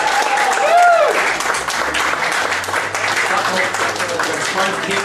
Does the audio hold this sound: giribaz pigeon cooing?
no